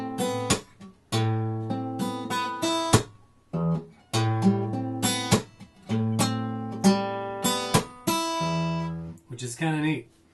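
Slowed-down fingerpicking from a song on guitar: clear plucked notes and chords in short phrases separated by brief pauses, close and steady, with no talking.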